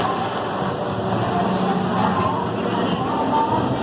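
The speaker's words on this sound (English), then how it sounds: "Overhead now, we've got our helicopters coming in if necessary." A helicopter's steady, rumbling drone fills the background, a constant engine roar overhead with no clear rise or fade, at a fire academy graduation.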